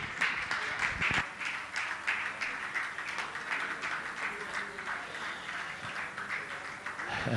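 Audience at a religious gathering applauding steadily during an honouring ceremony, a sustained, even patter of many hands clapping at moderate distance with no clear pauses.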